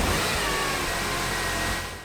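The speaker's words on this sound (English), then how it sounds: "With the flush in, we can start the engine, but do not rev or drive it." A supercharged Mercedes engine runs steadily at idle with a flush additive in the oil, giving a continuous close hum that fades slightly at the end.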